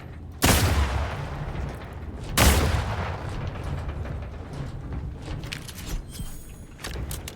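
Two loud, close gunshots from The Outer Worlds 2 ring out about two seconds apart, each leaving a long reverberant tail over a low game ambience.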